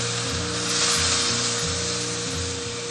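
Boiling water goes into a hot wok of frying chicken feet, giving a loud, steady rushing sizzle that swells briefly and then holds, close and continuous.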